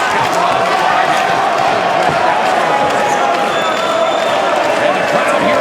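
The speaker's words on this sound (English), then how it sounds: "the crowd here in Dublin trying to rally Sinead Kavanagh to victory" A packed arena crowd roars steadily through a featherweight fight in Dublin between Sinead Kavanagh and Sara Collins. The dense, loud wall of cheering never lets up, with a thud or two breaking through.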